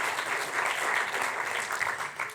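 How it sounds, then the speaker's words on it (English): Symposium audience at a university event gives a dense round of applause, steady crowd clapping throughout with a slight swell midway. "So welcome and a big applause."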